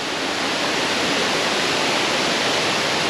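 Rushing water of Sungai Pandan waterfall in Kuantan, Pahang, Malaysia, a steady, dense, full roar filling the whole stretch without pause, loud and close, with no voices.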